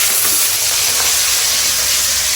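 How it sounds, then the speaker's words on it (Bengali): Fish frying in hot oil in a home kitchen, a continuous loud, even hiss and sizzle close up with no voices. "এখানে হচ্ছে মাছ ভাজা হচ্ছে"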